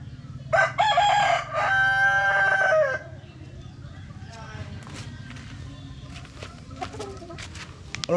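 A rooster crows loudly and close by, followed by softer scattered clucking from chickens over a steady low background hum.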